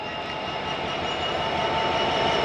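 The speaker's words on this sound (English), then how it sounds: "The train is moving." Historic train rolling past at an industrial museum mine site, a steady continuous rumble and rattle of wheels on rail that holds nearby and grows slightly louder throughout.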